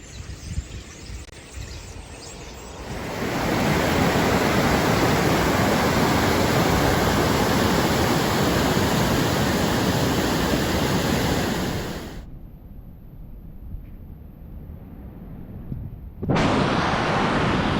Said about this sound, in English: So this is the Manuel's River.